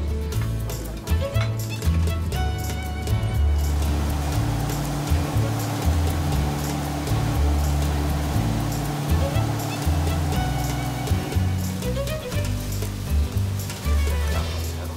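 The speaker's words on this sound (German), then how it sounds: "Der Twin City Liner fährt von Wien nach Bratislava." Aboard the Twin City Liner, a fast speedboat running the Danube between Vienna and Bratislava, rushing water and wind roar steadily on deck over a deep, pulsing engine rumble, loud and continuous throughout.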